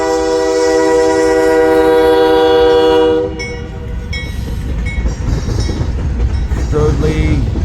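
A westbound freight train coming off the Blair Fremont subdivision sounds a loud, sustained horn blast for about three seconds, then its rumbling wheels and rail clatter carry on nearby with brief squeals.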